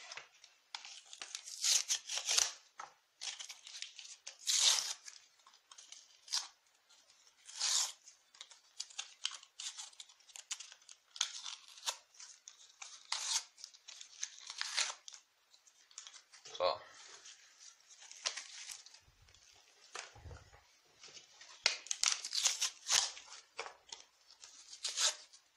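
Model railway kit packaging for an N-scale miniature layout being unpacked, with repeated crinkling, tearing and rustling of wrappers and cardboard in quick irregular bursts, close and fairly quiet.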